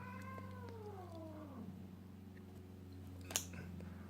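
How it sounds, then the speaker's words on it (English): Two house cats fight with a drawn-out, falling yowl and caterwauling wail, faint and somewhat distant, ending in a brief sharp hiss or scuffle noise. "My cats are fighting."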